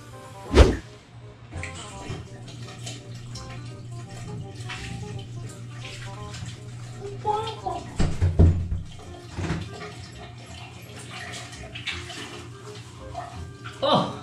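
A shower runs steadily in a bathroom, with water splashing and a few knocks and bumps over the spray, while people talk intermittently nearby.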